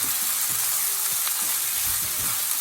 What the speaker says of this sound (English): A quick fried rice. That's it. And we're just going to stir that through.